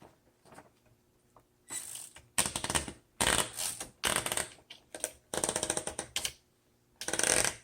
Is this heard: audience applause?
no